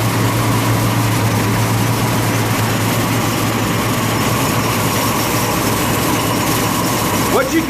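A 602 crate engine runs loud and steady during an ignition timing check, with a constant close droning roar and RPM held high throughout.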